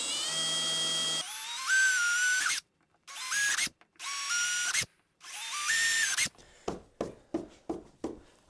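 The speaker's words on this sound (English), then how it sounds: "You just want to make sure you angle your drill bit the direction the plastic is going." A power drill bores into the plastic hull of a Native Watercraft Slayer Max 12.5 kayak, with several whining bursts of spinning separated by short pauses, then a run of rapid rhythmic ratcheting pulses, close and loud.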